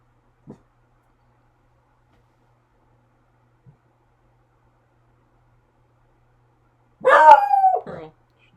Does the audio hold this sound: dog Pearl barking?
yes